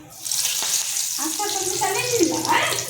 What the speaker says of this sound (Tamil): கருகப்பிள்ளை சேர்த்துக்கங்க.